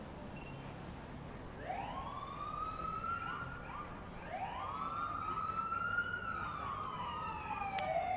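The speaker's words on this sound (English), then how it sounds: "wanting to know what's going on with all those sirens" Emergency vehicle sirens wail at a Memorial Day parade in Shrewsbury, Massachusetts, with repeated rising and falling sweeps heard from a moderate distance over steady crowd and street background.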